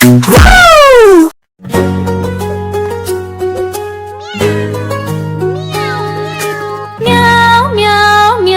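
Cat meowing within a children's nursery rhyme: a loud, close, drawn-out meow at the start, then repeated shorter meows over a bouncy musical backing.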